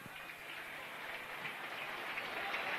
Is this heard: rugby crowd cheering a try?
yes